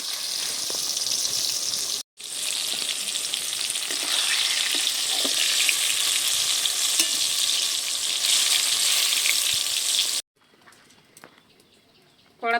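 Eggplant pieces frying in hot oil in a pan give a steady, loud, close sizzle with a brief break near the start, then stopping abruptly and leaving faint kitchen clatter at the end.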